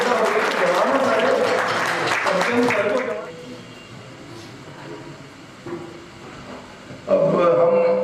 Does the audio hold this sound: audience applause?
yes